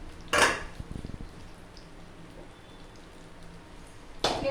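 A frying pan used to fry eggplant is set down in a home kitchen, making a sharp metallic clatter near the start followed by lighter knocks and another clank at the end.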